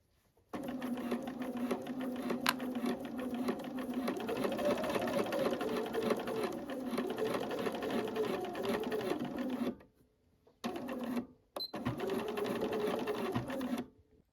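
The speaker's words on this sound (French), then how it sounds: "Et maintenant vous allez réaliser une piqûre de maintien sur le haut ici à 5 mm du bord." A sewing machine overlocks and topstitches a trouser pocket 5 mm from the edge, running in a fast, even whir close by, broken by two brief pauses near the end.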